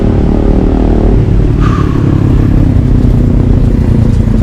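Loud, close city traffic on a road near Tabriz, Iran, with motorcycle engines revving and a steady rumble of cars and exhaust noise throughout, no talk.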